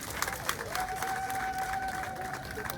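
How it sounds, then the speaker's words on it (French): An audience at a rural women's day gathering applauds with steady, dense clapping from a crowd, sustained throughout at moderate distance with a faint tone running underneath. "Et on doit acclamer cela."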